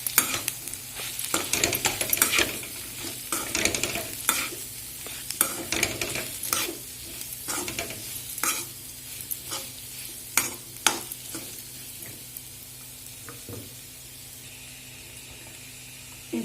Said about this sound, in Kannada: ಇದು ಗೆಣಸು ಹಾಕ್ತಾ ಇದ್ದೀನಿ. ಬೇಯಿಸಿ ಸಿಪ್ಪೆ ತೆಗೆದು ಹೆಚ್ಕೊಂಡಿರೋ ಗೆಣಸು. ಇದನ್ನು ಮಿಕ್ಸ್ ಮಾಡ್ಕೊತೀನಿ.